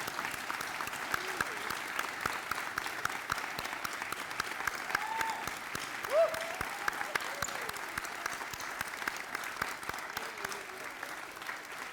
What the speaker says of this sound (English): Please stand up and give them a big round of applause for the dream they have.